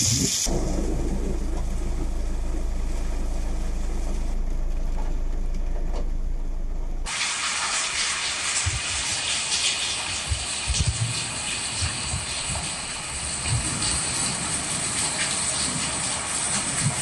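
Heavy rain pours steadily during a thunderstorm in Hyderabad, Telangana, with a low rumble early on before a dense, loud hiss of rainfall takes over and continues unbroken.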